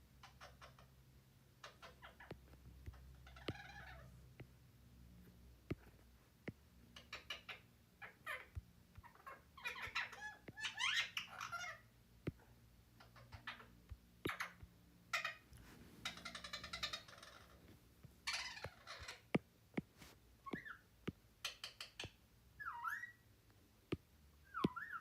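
A pet bird calls repeatedly indoors, with bursts of shrill chirps and squawks scattered across the stretch over a low steady background hum, fairly close to the microphone.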